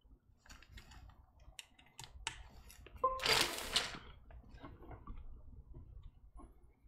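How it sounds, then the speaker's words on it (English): A TX65 mechanical keyboard with lubed vintage black switches is typed on in a quick, uneven patter of soft, muted clacks. A brief louder rustling burst sounds midway, and the typing is close and quiet. "let's plug it in. Let's do some typing"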